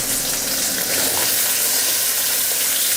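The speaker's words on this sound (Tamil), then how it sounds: "100 கிராம் சின்ன வெங்காயம், இது நல்லா வதக்கிக்கோங்க" Small onions sautéing in a pan for sambar, a loud steady sizzle and hiss of frying close up, continuous with no voices.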